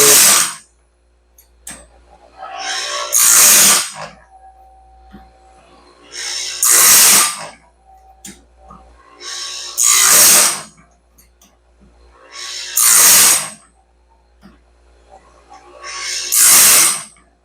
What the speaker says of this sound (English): This wheel grinds the stellite like nothing.